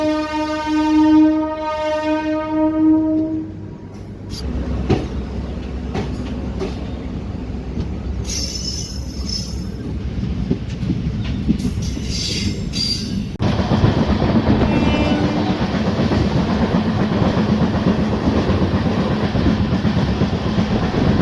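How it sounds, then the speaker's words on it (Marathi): Koyna Express pulling out of Hatkanangale railway station, a long train horn blast followed by steadily building rumble, wheel clatter and squeal, with high metallic screeches, loud and continuous. "9:18 हातकणंगले रेल्वे स्टेशनवरून आपली ट्रेन जी आहे ती निघालेली आहे।"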